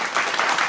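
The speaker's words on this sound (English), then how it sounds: "Let's get an applause." Audience applause welcoming a performer at an arts event, a short, dense stretch of steady clapping from a room full of people.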